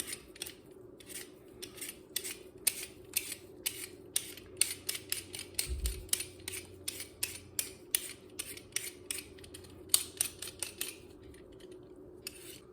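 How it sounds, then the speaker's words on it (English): A peeler scrapes repeatedly across potatoes in quick, rhythmic strokes, with steady close scraping bursts and no talking. "First we're gonna peel a few potatoes."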